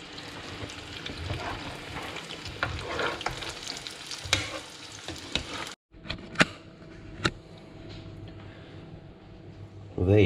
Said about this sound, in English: Oh yes, we have sizzle.